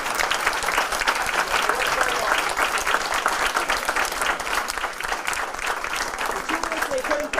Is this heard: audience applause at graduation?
yes